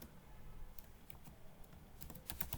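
Code being typed on a computer keyboard, a quiet irregular patter of key clicks with a quicker burst near the end, with no talking.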